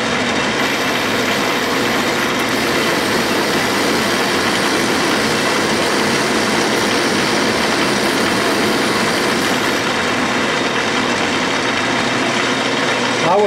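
An annular cutter held in a Morse taper adapter bores into 1.5-inch cast aluminum on a drill press at about 450 RPM, giving a loud, continuous motor hum and cutting noise that holds steady throughout.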